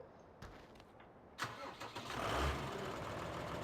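A tractor engine in the video game Farming Simulator 2015 cranks and starts, then settles into a steady mid-pitched idle, with no talk.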